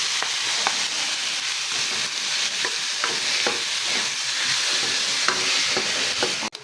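Chicken breast fries in a pan of oil with garlic and onion, giving a loud, continuous sizzle broken by repeated stirring scrapes and clicks, with no talk over it.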